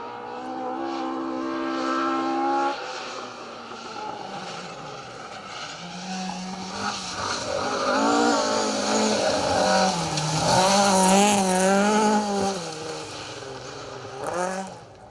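A brightly coloured Ford Escort Mark II rally car, one of the Irish crews on a Roger Albert Clark Rally stage, drives past loud and close, its engine revving hard and rising and falling through the gears in a sustained snarl.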